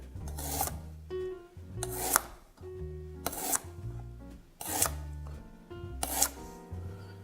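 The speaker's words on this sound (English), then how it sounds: "And then I'm just going to do 5 slices of ginger." A knife slices ginger into thin strips on a board, about five sharp, evenly spaced cutting strokes, close and clear, with low background hum between them.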